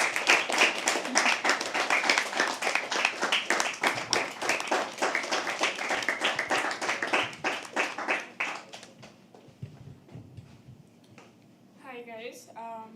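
An audience at a poetry open mic claps in a loud, close, rhythmic run of individual hand claps that thins out and fades, followed by a voice starting to speak.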